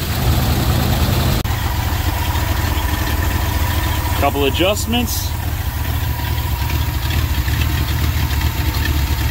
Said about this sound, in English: Idling like a dream.